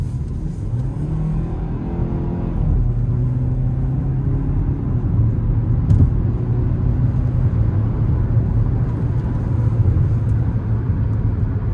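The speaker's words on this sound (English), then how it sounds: "We're gonna give it a quick pull getting on the interstate." Heard from inside the cabin, a 2026 Hyundai Tucson SEL FWD in sport mode accelerates onto an interstate, its engine rising in pitch through shifts under a loud, steady road rumble.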